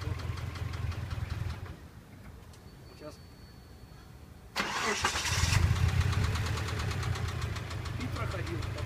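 Subaru EJ206 engine idling with a repeating knock, dipping quieter for a few seconds before the engine note surges back louder and keeps knocking; a voice briefly speaks over it.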